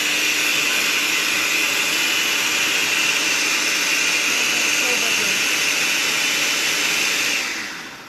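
A kitchen blender purees a jerk seasoning paste, a loud, continuous, close roar that holds steady for several seconds before winding down at the end.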